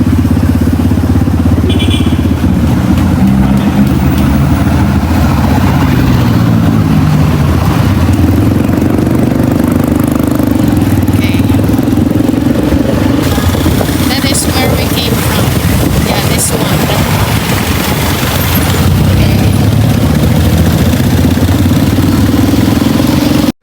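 Busy main road traffic in downtown Iloilo City: a steady, loud wash of engines, with motorcycles and idling vehicles rumbling and passing close by, plus occasional clatter and faint horn-like tones throughout.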